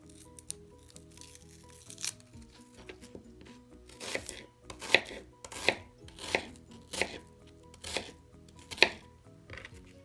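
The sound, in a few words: knife chopping onion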